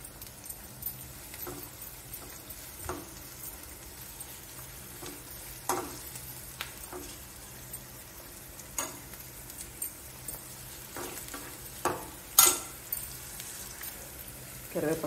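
Onions frying in oil for a mutton curry with raw cashews, a low steady sizzle broken by scattered stirring clicks and scrapes, with faint background noises and no talking.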